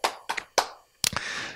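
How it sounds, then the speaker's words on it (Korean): Clapping, a few separate sharp hand claps followed by a short burst of clustered clapping, close and fairly faint. "박수 쳐야지, 이때."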